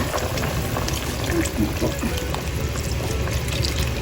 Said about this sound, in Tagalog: Ito pa ilalagyan ko na ng kakanggata.